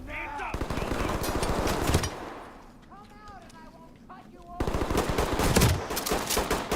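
Rapid gunfire from a tactical police shooter game, with dense bursts of shots near and loud at the start and again at the end, a quieter gap between with voices talking.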